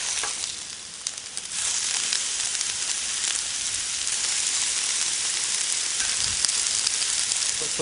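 Fish and courgettes frying on a hot plancha griddle, a loud, steady, close sizzle with crackling spits and a few clicks as the food is turned.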